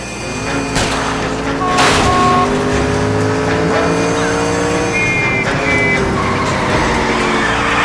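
A car speeding through a chase in L.A. Noire, engine revving and shifting pitch close by, with sharp gunshot cracks and tire squeal bursting over the loud roar.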